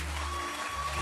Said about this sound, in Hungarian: Hatalmas taps és ováció tükrözte vissza a Jászberényi Gyerekek fantasztikus produkcióját.